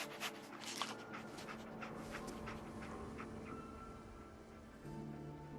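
Dogmeat, the dog companion in Fallout 4, pants softly and rhythmically at close range, mixed with faint whimpers over a low game ambience.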